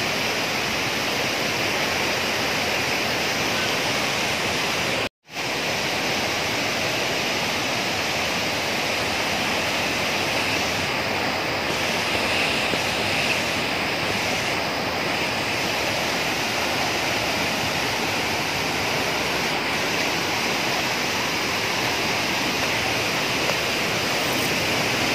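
A waterfall roars with a dense, continuous rush of falling water that stays steady and loud throughout, with a momentary dropout near the start and no speech.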